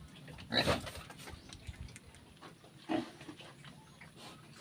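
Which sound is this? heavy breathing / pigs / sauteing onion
pigs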